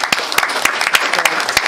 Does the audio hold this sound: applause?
yes